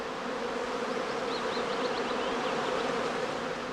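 A large swarm of honey bees in prime swarming season at a skep bee farm makes a dense, continuous hum, with individual buzzing bees weaving above the steady drone and no voices.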